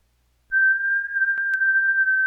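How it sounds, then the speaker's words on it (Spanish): After a moment of quiet, one sustained whistle holds a steady, unwavering pitch, loud and close, broken only by a couple of faint clicks. "Ese es un silbido."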